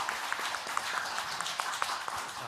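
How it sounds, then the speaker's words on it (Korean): A church congregation applauding in blessing after a prayer during a Sunday service, steady dense clapping filling the room for the whole stretch at moderate level. "여러분 축복의 박수 해주시기 바랍니다."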